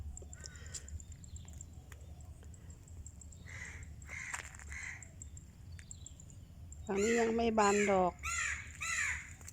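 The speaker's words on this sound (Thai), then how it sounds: "อุ้ยเสียงอีการ้องลั่นเลยค่ะยามเช้า" Someone speaks quietly, then a crow breaks in with loud, harsh morning caws close by, repeated several times in quick succession.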